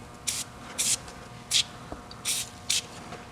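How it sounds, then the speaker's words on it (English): Five short bursts of aerosol cleaner sprayed onto a tractor engine, each a hissing puff of under a quarter second, spaced irregularly over a quiet background. "Let's spray a little bit more right there."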